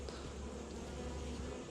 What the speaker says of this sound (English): So I'm just going to try and brush a couple bees off of it.